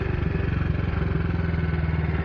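A BSA C11 Deluxe motorcycle engine runs steadily on a shakedown ride, a close, loud, even thumping beat with mechanical clatter and no talk.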